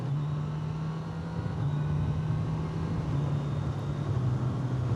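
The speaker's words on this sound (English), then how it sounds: "The intake sound on this bike is fantastic." A 2025 Kawasaki Z900 SE motorcycle engine with intake sound heard from the rider's position, a steady droning hum at near-constant revs with a low growl and continuous road and wind noise, no talk.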